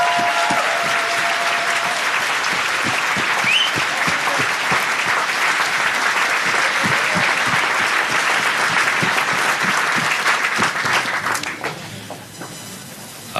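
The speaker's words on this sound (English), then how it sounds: "let's just give all of ourselves a big round of applause." Sustained crowd applause fills a town hall held by a congressman with the local Democratic Party, loud and steady for about eleven seconds before thinning and fading out at the end.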